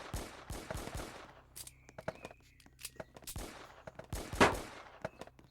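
Gunfire at a shooting range in the Roblox game Brookhaven, sharp separate shots and short bursts spaced irregularly, fairly quiet, with a voice speaking briefly between them.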